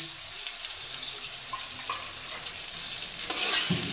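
Onions sizzling in hot oil with garam masala, green cardamom and cumin for chicken pulao, a steady bright frying hiss with light stirring scrapes, close and continuous with no talking.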